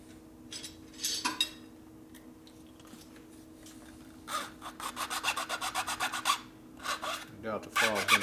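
Hand file rasping on a metal part of a 1957 Harley panhead engine, a few short scrapes followed by a run of quick rhythmic back-and-forth strokes, close and fairly quiet.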